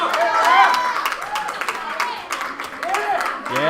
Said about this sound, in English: You hear the crowd energy going up a little bit.